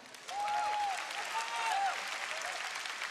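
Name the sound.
audience applause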